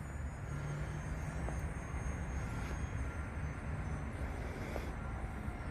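Eflite A10 UMX radio-controlled model airplane making a low pass, a steady continuous motor whine and rushing drone that holds at an even level throughout, with no talking.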